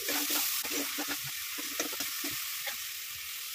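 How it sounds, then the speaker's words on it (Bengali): Spice paste for a Bengali doi maach curry sizzles in a frying pan as its rinse water goes in and a spoon stirs it, giving a dense, steady crackle with soft scraping strokes. "মশলা ধোয়া যে জলটা আছে সেটা আমি দিয়ে দিচ্ছি। ভালো করে নাড়িয়ে চাড়িয়ে নিচ্ছি।"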